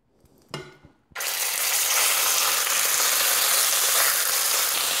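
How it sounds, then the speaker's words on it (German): Chicken strips hit hot clarified butter in a pan, setting off a sudden loud, steady sizzle that roars on without a break after a brief clatter of placing the pieces in. "Und da drin brate ich jetzt meine Hähnchenstreifen an."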